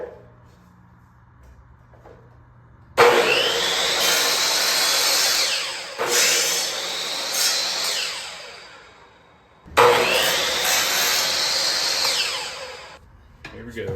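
A saw cuts wooden quarter round trim in three loud sustained passes, about three seconds each, separated by short pauses, close up.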